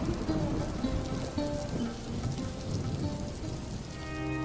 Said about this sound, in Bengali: বৃষ্টির পানিতে ঘরটা যে একেবারে ভেসে যাচ্ছে